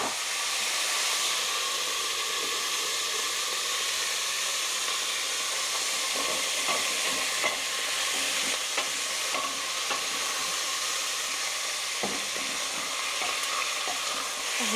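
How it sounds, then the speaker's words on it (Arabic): Meat sizzling as it fries in a pot for Algerian chorba frik soup, a steady loud hiss with occasional pops and crackles, continuous and close, with no talking. "معاهم نرمو مباشره اللحم"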